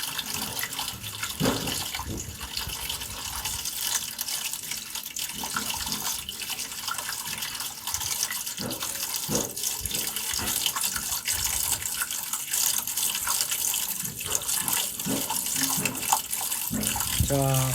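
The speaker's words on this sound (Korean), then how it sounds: "다시 한번 물을 공급을 했을 때는 이렇게 물이 떨어집니다." Water from a leak in a bathroom runs and splashes steadily throughout, like a tap flowing into a basin, with faint low voices underneath.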